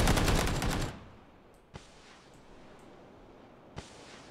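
Video game gunfire from a rival team: a dense, loud automatic burst that cuts off after about a second, followed by two sharp, more distant single shots spaced a couple of seconds apart.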